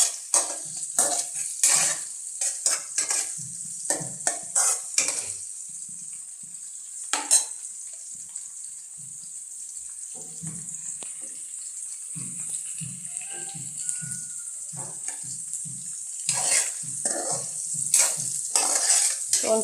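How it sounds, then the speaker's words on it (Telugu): Onions, green chillies and cumin sizzle and fry in a pan for wheat rava upma, with steady crackling broken by repeated stirring scrapes and clinks throughout. "కొంచెం ఆనియన్స్ బ్రౌన్ కలర్కి మారాలి"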